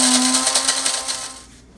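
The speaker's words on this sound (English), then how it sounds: "Pretty much you want fresh beans, freshly ground. That's the secret. And we'll start grinding." An inexpensive electric coffee grinder grinds fresh whole coffee beans to a coarse cold-brew grind, giving a steady, loud whirring buzz close by that starts to fade and wind down toward the end, with no talking.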